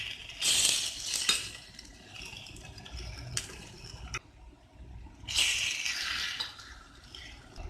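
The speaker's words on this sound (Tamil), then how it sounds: "அந்த மாதிரி இது மாதிரி எல்லாத்தையும் நம்ம திருப்பி போட்டுடலாம்." Egg paniyaram being flipped in a paniyaram pan, with light metallic clinks and scrapes of a utensil against the pan in a few short clusters, close and fairly quiet, with no talking.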